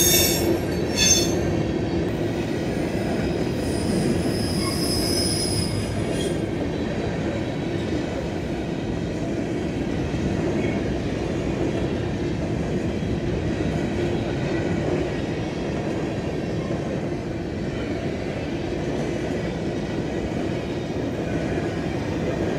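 A train rolls past on railroad tracks near Nortonville, Kentucky, with a steady rumbling wheel noise and clickety-clack. Faint squeals are heard early on, and it stays moderately loud and even throughout with no talk.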